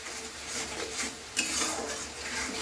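A spoon stirs salted spices in a pan for Bengali egg curry, with soft scraping and a single sharp metallic clink over a low background sizzle.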